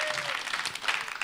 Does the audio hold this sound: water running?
no